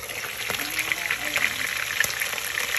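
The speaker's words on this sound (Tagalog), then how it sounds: "Prituin ko muna siya guys bago ko siya i-adobo." Fish fries in hot oil ahead of being made into adobo, a steady dense sizzle and crackle with small pops, close and continuous, with no voices.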